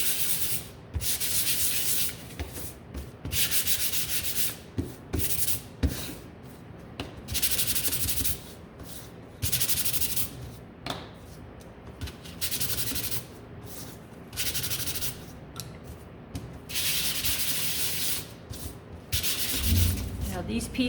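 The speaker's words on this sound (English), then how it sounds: "these are dry, so I'm just gonna come in and give them a sand." Close, rhythmic sanding strokes rub over small dry painted wooden snowman gnome pieces, and the scratchy passes come in repeated bursts with brief gaps between them.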